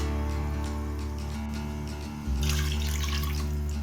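Water poured from a tap into a cooking pot for beef yakhni pulao, a steady rushing splash that grows louder and brighter partway through, continuous and close with no talking.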